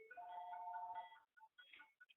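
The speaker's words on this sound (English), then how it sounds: "that's my cell phone" A cell phone ringtone plays a sustained electronic melody followed by a few short chirping tones, faint and clear against near silence.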